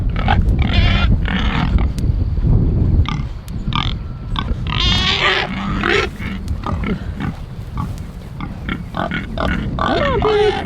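Pig grunts and oinks repeatedly as the animal is coaxed along through a forest, with people talking loudly throughout and over the animal's calls.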